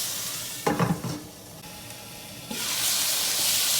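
Onions sizzling in a pan for shakshuka give a steady frying hiss, with a brief clatter of stirring near the start. The sizzle swells louder toward the end.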